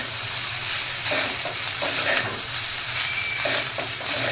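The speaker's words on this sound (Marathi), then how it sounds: "राईस टाकून घेतल्यानंतर आपण ते पूर्ण मिक्स करून घ्यायचं आहे" Cooked rice being stirred into a hot tempering in a pan for matar pulao, with continuous close scraping and sizzling and soft repeated stirring strokes, no voices.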